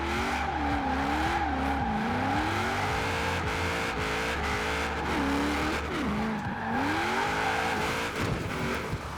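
A Holden Commodore Group A drift build in Forza Horizon 4 revs hard while its tires squeal in long, wavering skids, a loud continuous engine drone rising and falling throughout with no talking.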